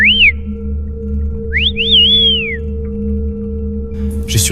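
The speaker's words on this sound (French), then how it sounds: "un sifflement assourdissant a déchiré le silence" A piercing whistle slices through a low steady hum: a short rising-and-falling chirp, then a longer sweeping whistle that bends up and slowly glides down, loud and close, with no voices.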